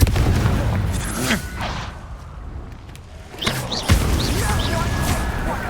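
Blasting spell explosions in the video game Hogwarts Legacy, heavy booming impacts and crashes in combat, with sharp bursts near 3.5 and 3.9 seconds amid busy battle noise and spell effects.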